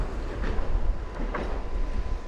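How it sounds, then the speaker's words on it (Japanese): A new three-car articulated Hiroshima Electric Railway streetcar at the Koami-cho stop, a loud, close low rumble with faint rail clatter, steady throughout with no voices. "新型の路面電車3両連接"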